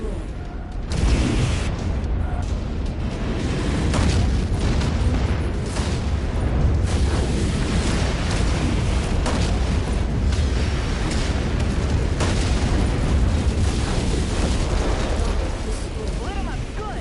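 Sustained rumbling explosions and weapon fire from a mech being destroyed in MechWarrior 5 combat, loud and dense throughout with no pause.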